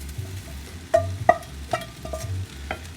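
Vegan fried rice with tofu stirred in a pan, a spatula scraping in a few distinct strokes over a low, steady sizzle, close and fairly loud.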